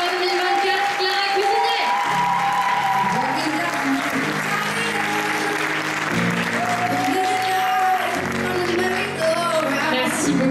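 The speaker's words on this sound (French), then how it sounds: "On l'applaudit bien fort." A theatre audience applauds Miss Côte d'Or 2024 at an evening show with loud, steady, continuous clapping. Music plays throughout, and a voice speaks over the applause.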